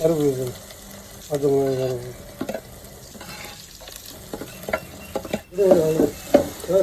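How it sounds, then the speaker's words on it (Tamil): Onion, green chilli and curry leaves frying after mustard seeds have popped, for a white chana stir-fry: soft sizzling and stirring scrapes in the pan, with a voice talking over parts of it. "ஆனியன் பச்சை மிளகாய் கர்லீஸ் மூணையும் நம்ம தள்ளி ஃப்ரை பண்ணிக்கலாம்"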